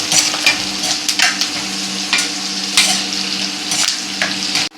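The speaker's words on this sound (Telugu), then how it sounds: "కరివేపాకు, పచ్చిమిర్చి, వెల్లుల్లి రేఖలు, జీలకర్ర అన్నీ వేగిపోయినాయండి." Curry leaves, green chillies, garlic slices and cumin frying in a pan, a steady sizzle broken by repeated bursts of stirring and scraping, with no talk.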